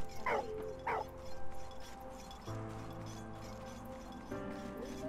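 A dog in the game Valiant Hearts gives two sharp barks followed by soft whimpering whines, fairly close against a quiet game background with no talking.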